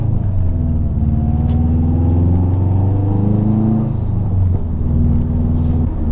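Subaru WRX with its exhaust resonator deleted, giving a loud, deep, throaty drone that swells and eases steadily, heard from inside the car with no talking.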